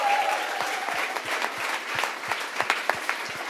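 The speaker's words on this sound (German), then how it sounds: "Ich habe einen fetten Applaus diesen wunderbaren Menschen." An audience gives a hearty round of applause, with many hands clapping in a lively, uneven patter and a few sharper claps standing out near the end.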